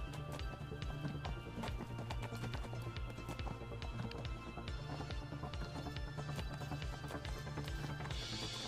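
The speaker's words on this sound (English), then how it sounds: "Back on my horse. Time to run." A horse's hooves beat in a fast, steady galloping rhythm throughout, close and continuous, over a low soundtrack in the game Neverwinter.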